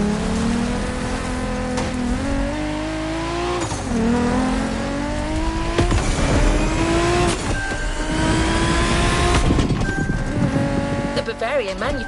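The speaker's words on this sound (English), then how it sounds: "We have prepared a classic for you from a very famous German brand, the BMW Z4" A BMW Z4 M40i roadster in The Crew Motorfest, its engine droning steadily with rising and falling revs through gear changes, loud and close, with faint tire noise and game effects mixed in.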